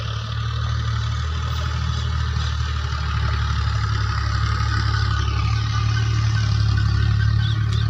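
A tractor ploughing a field to prepare for wheat sowing drones steadily at a low pitch, an even engine hum heard from some distance with no voices.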